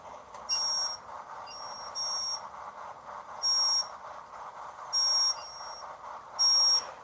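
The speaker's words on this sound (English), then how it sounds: "here's what the alarms and all sound like." Ship alarms sound aboard a vessel in the game Stormworks: a repeating electronic buzz-beep pattern, five evenly spaced tones about a second and a half apart over a constant low hum, with no voices.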